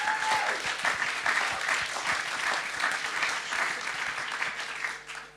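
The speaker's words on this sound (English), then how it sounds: "let's wrap that up again with one last round of applause to welcome them" An audience at a Swiss event gives a sustained round of applause to welcome a guest. The clapping is dense and continuous, holds at an even level and tapers off slightly at the end.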